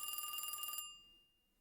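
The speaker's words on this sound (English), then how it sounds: "Suddenly, a loud ringing pierces through the air." An old-style telephone bell rings in rapid, loud bursts at a gas station in a video game, then cuts off abruptly and leaves a short fading ring.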